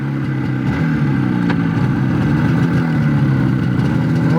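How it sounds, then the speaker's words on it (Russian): A carburetted Jupiter-4 engine, its carburettor freshly adjusted, idles steadily up close with an even, low, throbbing rumble and no speech. "Как четко работают цилиндры."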